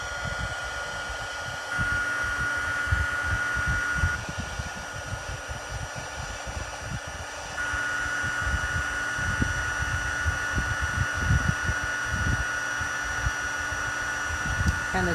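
Heat tool melting embossing powder while stamping, a steady blowing whir with a high whine that steps up and down as it is moved, under intermittent thumps and handling noise.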